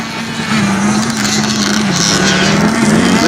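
Close, loud motocross dirt bike at practice, its engine held at a steady high buzzing rev with small wavering pitch swings, nearly continuous across the short stretch.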